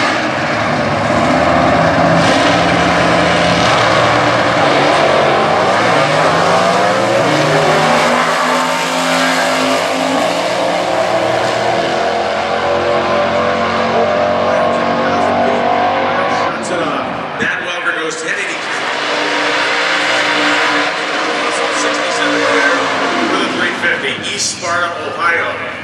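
Chevrolet stock class drag race cars roar loudly down the strip at Indy, engines screaming steadily before briefly dipping and surging again, with a commentator talking over the noise throughout.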